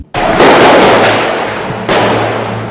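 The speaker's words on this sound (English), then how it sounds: "A 4-month manhunt ended today in a hail of gunfire" A loud, close burst of gunfire, a rapid crackling volley followed by a second blast about two seconds later, with echo trailing off.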